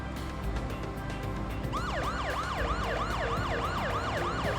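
An emergency vehicle siren in the Parasite Eve video game wails in a fast, repeating up-and-down pattern that starts partway in over a busy low rumble and continues loudly to the end.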